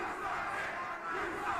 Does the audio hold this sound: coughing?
no